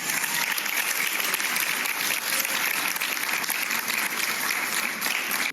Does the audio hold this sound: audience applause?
yes